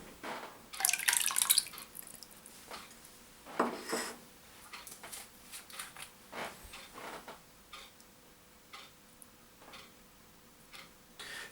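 Drops fall into a large pan of goat's milk for cheesemaking, making scattered small ticks and drips, a few louder clusters early on, then sparser taps against a quiet room.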